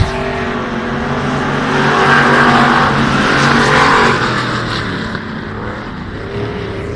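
A five-car field of pure stock race cars launches into a heat race at Texana Raceway Park, engines swelling to a loud layered roar of revving that peaks midway then eases as the pack moves off.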